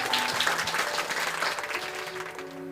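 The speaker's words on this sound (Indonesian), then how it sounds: "Tepuk tangan yang meriah buat Tuhan." Enthusiastic applause from a church congregation during a worship service, a steady dense clatter of many hands clapping that fills the whole stretch and eases slightly toward the end.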